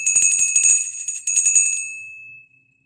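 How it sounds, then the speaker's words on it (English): During a live auction, a small hand bell rings in a quick, bright, close flurry of strikes, then trails into a fading ring and silence. "That was a pathetic bell ring."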